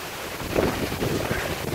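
Strong wind from Hurricane Irma buffets the microphone outdoors in a steady, rumbling roar that swells slightly toward the end.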